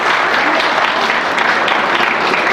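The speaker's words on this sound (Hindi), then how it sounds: "इनके लिए जोरदार ताली होनी चाहिए आप लोगों की तरफ से" Applause from the audience at an official farewell function, a dense, loud, even wash of many hands clapping together for the whole short stretch, with no voices standing out.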